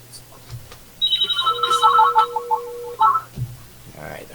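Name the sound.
telephone ringing on a call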